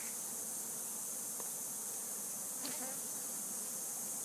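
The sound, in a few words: bees swarming at hive in wall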